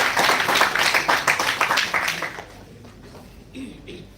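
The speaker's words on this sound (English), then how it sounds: "Give him a big round of applause." Brief clapping from an audience after a talk, a burst of applause in the first half that thins out quickly and fades to near quiet, with faint voices at the end.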